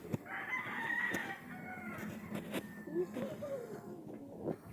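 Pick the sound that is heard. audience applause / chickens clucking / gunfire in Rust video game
chickens clucking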